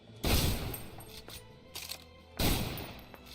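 Shotgun fire in Snowbreak: Containment Zone: two loud, close blasts about two seconds apart, each with a booming tail, and a faint metallic reload clack between them.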